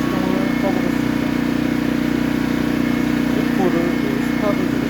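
Shinray Commando SR2200ise portable generator engine running, a steady close mechanical drone with a constant low hum throughout, no voices.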